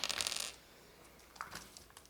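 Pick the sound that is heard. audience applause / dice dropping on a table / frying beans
dice dropping on a table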